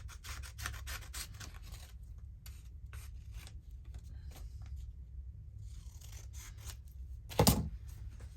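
Scissors cut through a piece of paper for a junk journal in a series of close, crisp snips and rasping slices, ending with a louder scrape.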